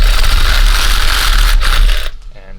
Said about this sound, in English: Then you can go in with your Sawzall